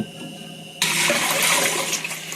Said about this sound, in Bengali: এতটা জল মেপে আমি এখন দেব।